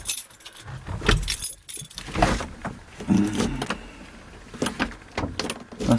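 Bunch of keys jangling and rattling while someone searches for the Volvo key to a Volvo 290CL excavator, several bright clinking bursts over about six seconds, close and fairly loud, with no talk.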